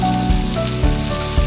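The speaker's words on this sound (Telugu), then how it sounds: "ఉల్లిపాయలు ఉడుకుతాయండి" Onions simmering in a pan for a dondakaya curry give a steady, close sizzle. Soft periodic thumps and tonal hum run underneath.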